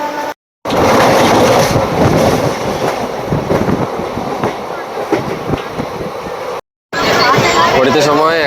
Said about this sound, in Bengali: হাওড়া স্টেশন থেকে ট্রেন ছেড়ে দিয়েছে।